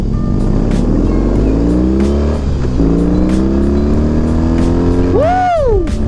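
BMW R18 motorcycle throttling up, a loud close engine roar climbing through the revs, ending with a sharp rising whine and short upward sweep.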